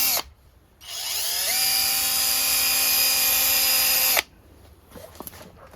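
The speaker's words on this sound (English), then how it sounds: "Drill your holes. Now this again is for metal." A compact cordless drill whirs steadily for a few seconds at high speed while drilling holes in metal, close by, starting and stopping abruptly with quiet room noise around it.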